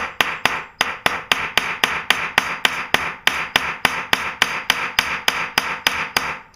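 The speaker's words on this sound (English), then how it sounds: "I'm going to use the ball end of the ball peen hammer." Ball peen hammer striking the end of a nail to flatten it into a homemade rivet: about twenty sharp, evenly spaced metallic taps in a quick steady rhythm, close and loud, with no talk.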